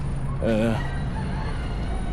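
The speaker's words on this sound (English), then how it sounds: "you hear the chickens in the background" A single short chicken call rises briefly over a steady low rumble of background noise on a street in Little Havana, fairly faint and distant.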